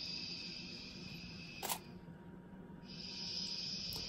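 A DSLR camera shutter fires once at 1/250 during a newborn photography shoot, a single crisp click against a faint steady hiss and whine from the room.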